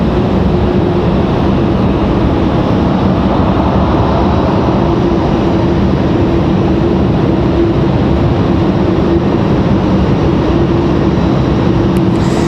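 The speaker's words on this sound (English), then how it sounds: "Finally, the Dreamliner popping out from behind Terminal 2." A Boeing 787 Dreamliner airliner at Raleigh-Durham airport gives off a loud, steady, broadband engine roar that holds unbroken throughout, with no voices.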